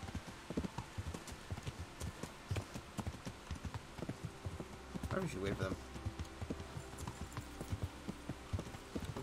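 Horse hooves in Kingdom Come: Deliverance clip-clopping at a steady riding rhythm, fairly quiet with outdoor insect buzzing around, while someone speaks briefly over them.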